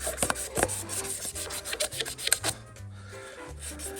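A pen is hand-sanded with 400 grit sandpaper in short, uneven scratchy rubbing strokes with a few sharp taps. The sound is close and moderate and eases toward the end.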